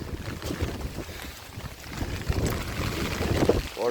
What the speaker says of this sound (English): Water's flowing, it is pouring out here.